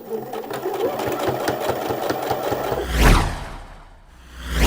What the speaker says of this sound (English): So now we need to sew those layers together.